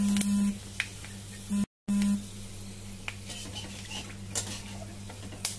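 Whole cardamom, cinnamon sticks, cloves and mace are stirred in a pan of oil, giving sparse light clinks and scrapes over a faint, steady sizzle.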